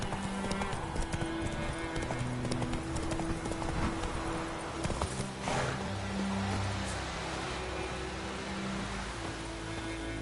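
Roach, the horse in The Witcher 3, clip-clops steadily at close range, hoofbeats running continuously over a low in-game music bed with faint ambient rustle and no voices.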